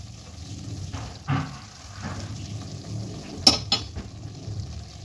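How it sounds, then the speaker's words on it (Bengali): Fenugreek leaves being stirred into partly cooked chicken in a pan, soft low sizzling with a few muffled stirring thumps and a couple of sharp utensil clinks near the end, quiet overall. "এবার মেথি শাকের সঙ্গে এটা ভালোভাবে মাখিয়ে নেব"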